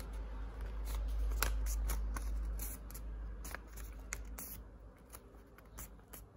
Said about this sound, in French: Alors ensuite, vous allez plier le papier.